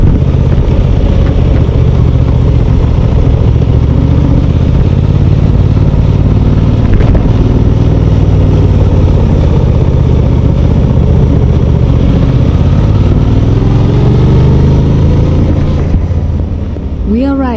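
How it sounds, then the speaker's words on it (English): An all-new Suzuki GSX-8T motorcycle is ridden on roads in Slovenia, its engine droning steadily beneath heavy wind rush throughout, with a brief rising engine note near the end. "We are riding all-new Suzuki at the launch in Slovenia."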